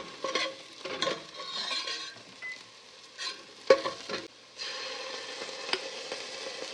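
Onions fry in hot oil in a pan for mutton biryani, with soft sizzling broken by bursts of stirring and scraping from a spoon, then settling into a steadier sizzle near the end.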